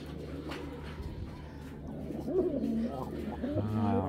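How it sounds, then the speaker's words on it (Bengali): Narayanganj-breed pigeons, males and females together, coo in low, throaty rolling calls that swell toward the end, with someone talking nearby. "এইগুলা নটটা কিন্তু নারায়ণগঞ্জের কবুতর"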